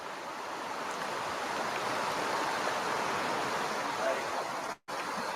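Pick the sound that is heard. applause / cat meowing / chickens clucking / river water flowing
river water flowing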